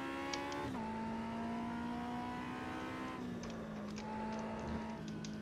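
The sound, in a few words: race car engine at full throttle, Automobilista video game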